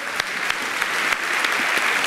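A church congregation applauds during a sermon, giving a steady wash of many hands clapping at close range for a couple of seconds with no voices.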